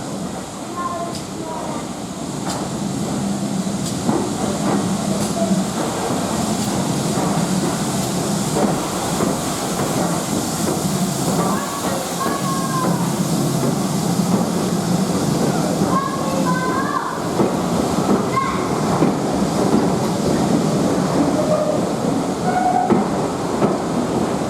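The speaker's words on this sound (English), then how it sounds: "The locomotive heading into the station will be 6990 Witherslack Hall." Steam locomotive 6990 Witherslack Hall arriving at Loughborough station, a steady rolling rumble with faint clickety-clack and hiss lasting throughout, fairly loud and continuous.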